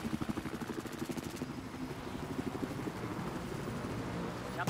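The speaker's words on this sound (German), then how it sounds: "Helikopter" A helicopter in the video game Battlefield 4 thumps with rapid, rhythmic rotor chopping over a rumbling engine, loud and close, the beat steady throughout.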